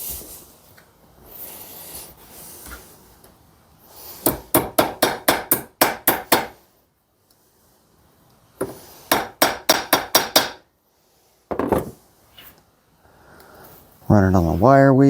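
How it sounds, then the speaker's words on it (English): A hammer strikes a copper cable lug to flatten it, in two rapid bursts of about six to eight sharp metallic blows each, then a few isolated hits, with a voice speaking briefly near the end. "Need a hammer."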